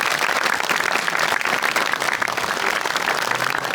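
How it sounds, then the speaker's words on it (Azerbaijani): Studio audience at a comedy show breaking into applause, dense continuous clapping from a crowd filling the room, loud and sustained throughout. "Alqışlarınızla."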